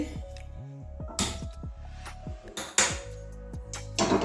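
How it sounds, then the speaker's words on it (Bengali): A metal wok set down on a lit gas stove, a few sharp clanks and scrapes spread over a few seconds above a low background hum. "কড়াইটাও বসিয়ে দিচ্ছি"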